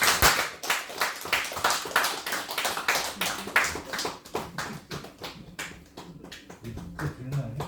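A church congregation in Cheongpyeong claps together at its 34th founding anniversary cake-lighting, strong rhythmic hand claps in quick bursts that loosen and thin out toward the end, with faint voices underneath.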